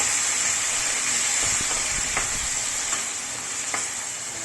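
Shrimp frying in a pan with vegetables for Filipino pakbet, giving a steady, bright sizzle throughout with a few soft clicks of stirring, close and fairly loud, no voices.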